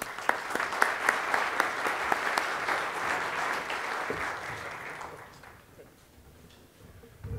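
A conference audience applauds to welcome a speaker, with steady clapping from many hands for about five seconds before it thins out and dies away.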